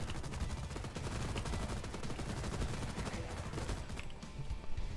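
Dense, continuous rapid gunfire from the DustOff Z video game, a steady stream of shots filling the whole stretch at moderate level with no pauses.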